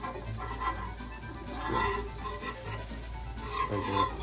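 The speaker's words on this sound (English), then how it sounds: "So just a little bit of butter for flavor, and then the butter actually helps cook the batter as well." Butter sizzles on a hot griddle for pancakes, a steady close crackle and hiss running throughout with small bursts, no talking.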